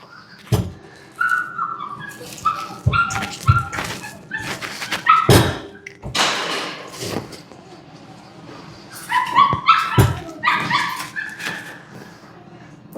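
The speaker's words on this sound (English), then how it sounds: "The dogs were outside having a snack, fighting for it. So they're outside. Now they want to come back inside." Several dogs outside a homestead in Mexico barking, yipping and whimpering in scattered bursts, wanting to be let back in, with sharp barks standing out over quieter whines.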